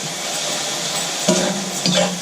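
A vegetable mixture with ketchup is stirred in a pan over low sizzling heat, a soft continuous hiss broken by a couple of scraping spoon strokes against the pan, close and alone.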